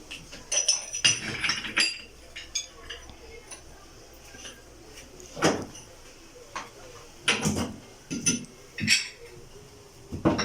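Metal gas stove burner caps set back into place one after another, producing sharp clinks and knocks in irregular bursts with quiet gaps between them, close up and without voices.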